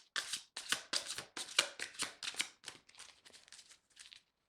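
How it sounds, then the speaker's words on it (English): Tarot cards riffle in quick rhythmic bursts, about a dozen crisp close-up shuffles that grow softer and faster before stopping. "I'll shuffle two more times"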